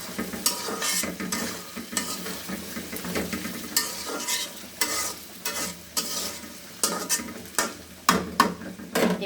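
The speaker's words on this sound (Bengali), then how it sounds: "করলাগুলো নষ্ট হয়ে যাচ্ছে তাই ভেজে নিচ্ছি।" Bitter gourds frying in a pan, a close, steady sizzle broken by repeated sharp scrapes and clinks of a spatula stirring against the pan.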